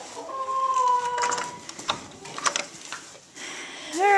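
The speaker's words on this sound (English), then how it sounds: "I hear we got some chickens who want to come out this morning" Hens on a hobby farm cluck and murmur in short, uneven bursts in the morning, fairly near, with a few higher squawks toward the end and no talking.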